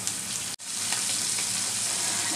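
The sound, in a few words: shrimp frying in pan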